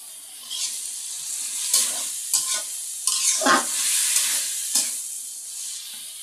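Cabbage with five-spice and hilsa fish pieces frying in oil, a soft sizzle broken by several scraping stirs in bursts, close and fairly quiet, no one talking.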